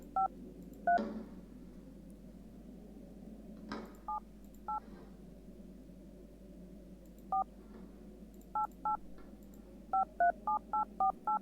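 Touch-tone dialing on a telephone in the video game Darkness Within: separate clear beeps, a few spaced out early, then a fast run of about eight tones near the end, each crisp and close over a quiet background.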